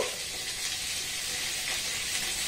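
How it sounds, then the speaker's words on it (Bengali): Pointed gourd (potol) slices frying over a low gas flame for a vegetarian mung dal dish make a constant, even sizzle and crackle, close and unbroken for the whole moment. "গ্যাসের ফ্লেমটাকে একদম লো রেখে পটলগুলোকে একটু হালকা নাড়াচাড়া করে ভেজে নেব।"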